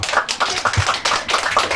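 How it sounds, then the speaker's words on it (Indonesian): A crowd claps steadily, the applause holding at a fairly even, moderately loud level throughout the short stretch with no voices over it. "Tepuk tangan untuk kita semuanya."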